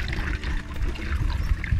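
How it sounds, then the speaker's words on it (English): Liquid is poured into bottles for a homemade plant hormone mix, a close, continuous gurgling trickle with some background noise. "And the next step is that I'm gonna pour in"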